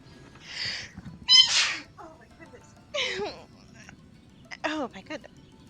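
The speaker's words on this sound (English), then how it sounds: "That was a sneeze." A character's sneeze in Genshin Impact, a short sharp burst amid other bright game vocal effects and chirps, close and clear.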